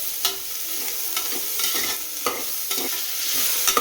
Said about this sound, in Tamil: இனி பீக்கங்காய் போட்டுக்கலாங்க. நல்லா கலரி விட்டுக்கலாங்க.